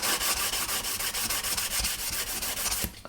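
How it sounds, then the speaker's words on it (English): Flat sanding stick with 400 grit paper rubbed over a 22-inch Space 1999 Eagle 1 scale model, a steady rapid back-and-forth scratchy rasp close up, continuous for about three seconds before stopping. "So we can just get in with a nice flat sanding stick on that."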